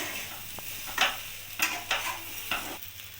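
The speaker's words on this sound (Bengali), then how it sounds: "এবার মশলার সাথে ভালোভাবে চাল আর ডালটাকে আমি কষিয়ে নেব" Rice and dal with spices are stirred and fried in a wok for winter vegetable khichuri: a steady sizzle runs throughout, broken by several sharp scrapes of the spoon against the pan at uneven intervals.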